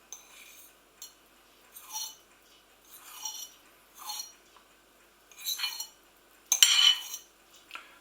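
Couscous being stirred into spicy chickpeas in a pan, soft scraping strokes and light utensil clinks in a quiet kitchen, one sharper clatter near the end.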